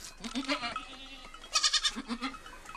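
Newborn baby goat on a farm in the Canary Islands bleating in several wavering cries, close and clear, with a quiet voice in between.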